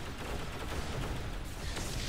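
Cannons fire in the space game X3 Farnham's Legacy as a dense, continuous crackling barrage of rapid shots, loud and unbroken, with no voices over it.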